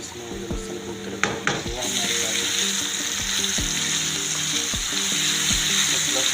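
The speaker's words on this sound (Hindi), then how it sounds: "हमारा प्याज हो गया ब्राउन" Onion browning in a frying pan sizzles loudly and continuously, while a utensil stirs and knocks against the pan in irregular close clatters.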